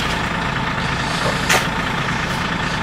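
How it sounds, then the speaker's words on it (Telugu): A bus idles close by at a Mongolia–Russia border crossing, its engine a steady low rumble with a brief hiss of air brakes partway through. "మా బస్సు వచ్చింది."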